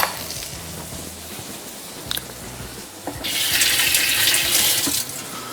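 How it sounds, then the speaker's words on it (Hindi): Hands are washed under a running kitchen tap, a faint clatter giving way to a strong, steady gush of water that lasts about two seconds before cutting off, with no talking. "हाथ धो लिए।"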